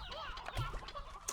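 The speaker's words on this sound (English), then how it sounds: "Not the chickens, not the roosters." Chickens and roosters cluck in the Slime Rancher 2 video game, a busy layer of short, overlapping fowl calls carried over steady background game sound.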